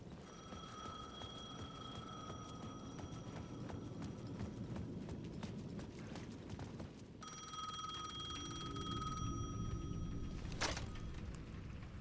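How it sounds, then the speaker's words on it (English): Payphone ringing in the Alan Wake 2 video game, a repeated electronic bell ring at a plaza's edge, steady over a busy ambient background with rhythmic clopping-like thuds. "The payphone at the edge of the plaza was ringing again."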